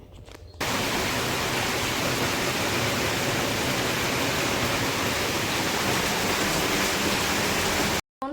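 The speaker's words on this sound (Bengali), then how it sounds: "বাইরে অঝোরে বৃষ্টি হয়েই যাচ্ছে" Heavy rain pours down outside in a dense, unbroken roar that holds steady for several seconds before cutting off.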